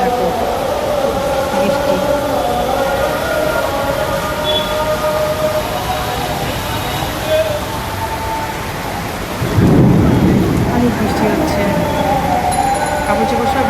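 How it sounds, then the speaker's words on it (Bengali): Steady heavy rain roars throughout, with a deep rumble of thunder swelling near the end; faint voices and other background sounds sit underneath. "প্রচুর বৃষ্টি হচ্ছে"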